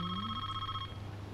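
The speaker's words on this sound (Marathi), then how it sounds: "फोन मध्ये मध्ये वाजतो, डिस्टर्बन्स होतो ना." A telephone rings in an office, a steady electronic trill repeating for about a second before cutting off, loud and close with no talk over it.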